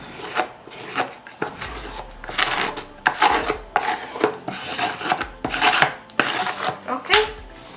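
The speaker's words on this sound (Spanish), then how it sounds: "lo puedas recortar con la lija, ¿sí? Para que el corte quede exacto" Sandpaper trims card paper along the edge of a small wooden box in repeated close rasping strokes, each a short scratchy rub with brief gaps between them.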